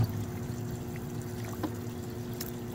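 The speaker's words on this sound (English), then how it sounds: "You want to go ahead and dump out your testing solution." Testing solution poured out of the cap of an Oakton EcoTestr pH2+ waterproof pH meter, a steady close trickle of liquid over faint background hum.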